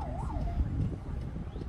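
An ambulance siren wails at a street corner where an injured person lies after an impact, its rising and falling tone faint and brief beneath a broadcaster's talk and street noise.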